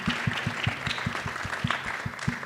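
Audience applause honoring healthcare professionals at a community discussion event led by doctors and nurses, heard as steady, evenly pulsed clapping from a crowd that carries on without a break.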